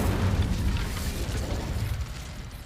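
The Incendio fire spell in Hogwarts Legacy lands as a loud, whooshing burst with a heavy low rumble, then slowly dies away over a couple of seconds, with no speech.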